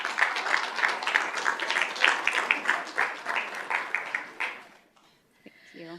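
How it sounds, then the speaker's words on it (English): An audience at a Peoria Unified school governing board meeting gives the board members a round of applause, steady clapping in a large room that fades out after about four seconds, followed by a voice starting to speak. "if we could give our governing board members a round of applause"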